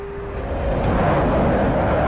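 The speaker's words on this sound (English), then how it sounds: "There's that terrible afterburner sound again." In a flight video game, a jet throttles up with its afterburner for takeoff from the Charles de Gaulle carrier, a loud steady roar that swells and then holds, with no talk over it.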